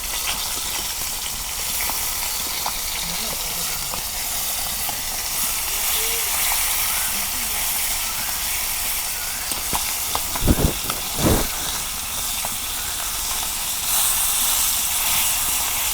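River sarpunti fish fry in a pan with a constant broad hiss, joined near the end by a couple of sharp, louder bursts as the pieces are flipped.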